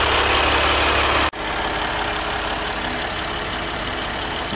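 A 2015 RAM 1500 Longhorn EcoDiesel truck idles nearby with a steady, loud, low diesel rumble that cuts out for a moment and then resumes evenly.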